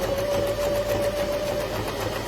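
A Janome 639XT sewing machine runs a zigzag stitch, a close, steady mechanical hum with a faint pulsing rhythm and a thin whine, with no talking.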